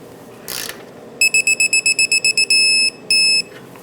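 A digital torque wrench tightens a castle nut on a Subaru Crosstrek's front lower control arm ball joint: a brief scrape, then about ten quick sharp beeps followed by two longer steady tones, close and loud.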